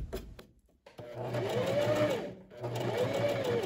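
An electric sewing machine runs in two bursts of close motor whir with a short pause between, stitching inside parallel gathering seams at the top of a long puffed sleeve cap.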